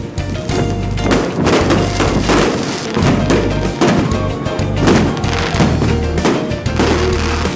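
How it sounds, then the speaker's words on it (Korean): An onboard fireworks show on a car ferry deck, with repeated heavy thumps and booms over a continuous roar. The bursts come in a steady, loud, close succession. "선상에서 펼쳐지는 불꽃놀이."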